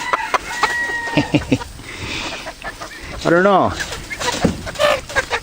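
Chickens cluck and squawk near at hand while being fed cucumbers, one drawn-out crowing call rising in the middle, with someone talking over the birds.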